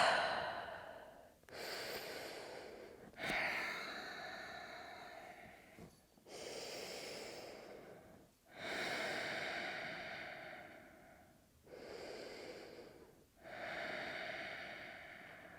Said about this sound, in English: Slowing down that breath.